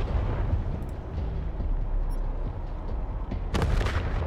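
A vehicle turret in Wasteland 3 fires, a heavy rumbling barrage that runs continuously and loud, with a sharper blast near the end.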